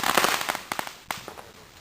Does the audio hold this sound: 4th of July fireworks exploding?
yes